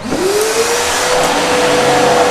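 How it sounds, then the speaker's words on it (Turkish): İhlas Aura Stilvac water-filter electric vacuum cleaner switching on, its motor whining up in pitch within the first moments and then holding a loud, steady roaring hum close by, with no talking. "Bir konumuna getirerek süpürgemizi çalıştırıyoruz."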